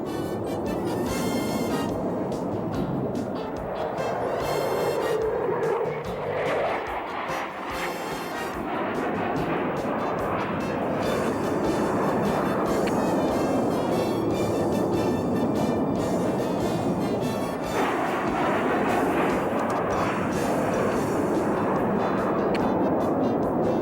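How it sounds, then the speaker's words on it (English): F-15 Eagle fighter jets scramble from alert and climb, a sustained roaring jet-engine rumble that swells and shifts over the whole stretch, loud and continuous with no talking. "Within minutes, Eagles are climbing faster than any aircraft in the world to meet the aggressor."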